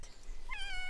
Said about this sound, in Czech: Ta kočka je démon.